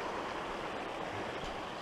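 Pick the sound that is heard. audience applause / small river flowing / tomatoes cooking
small river flowing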